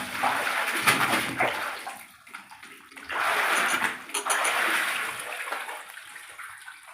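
Water being drawn by hand from a newly dug household well, heard as splashing, pouring bursts in two main spells with a quieter gap between, fairly close and with no voices.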